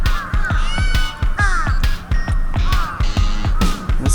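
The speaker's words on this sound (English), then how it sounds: "I'm gonna try to get close to these two crows right here." Crows cawing repeatedly in Yoyogi Park, Tokyo, with harsh, rapid calls from two or more birds close by, overlapping in a busy run, while children's voices sound faintly in the background.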